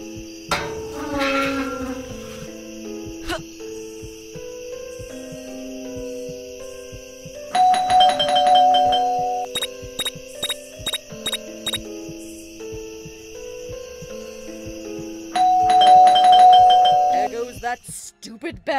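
A doorbell chimes in the video game Scary Teacher 3D. Repeated bright ding tones ring over a looping musical background and return in a second burst near the end.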